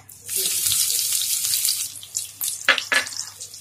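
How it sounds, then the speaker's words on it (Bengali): Chopped onion drops into hot mustard oil in a wok, setting off a sudden loud hissing sizzle that settles into steady frying, broken near the end by a couple of sharp clatters. "আমরা কড়াইতে সরষের তেল দিয়েছি এটা গরম হয়ে এসছে এরপর এর মধ্যে আমরা কুচি করা পেঁয়াজটা"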